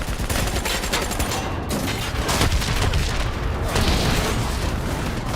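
Missile explosion destroying an APC in Call of Duty Black Ops 3, a dense, loud burst of booming blasts and rattling gunfire filling the whole stretch without letup.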